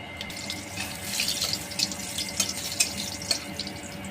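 Dry chili, bay leaf and cumin sizzle in hot oil in a pan, a steady bright hiss scattered with sharp crackles and pops, close and unaccompanied by speech.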